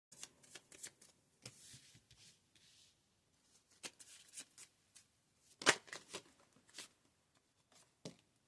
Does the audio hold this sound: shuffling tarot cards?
yes